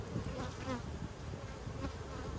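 Honey bees swarm-buzz from an open beehive colony, a dense, steady drone holding close and loud throughout with no voices.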